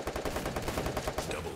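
Dense, continuous bursts of gunfire in the video game Free Fire crackle at close range without a break for the whole moment.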